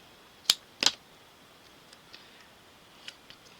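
Two quick, sharp snips sound up close as scissors trim a small piece off a sheet of craft foam, followed by a few faint, scattered ticks in a quiet room.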